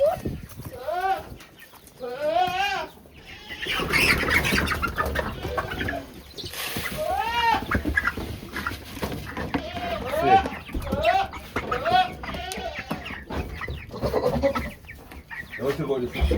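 Chickens cluck and squawk repeatedly nearby on a farm, with busy overlapping calls throughout, while people talk in the background.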